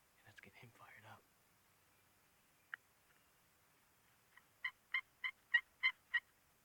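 Wild turkeys in spring woods in Maine or New Hampshire: a hen calls and a tom answers with a run of six loud, evenly spaced gobbles near the end, after a burst of hushed talk at the start.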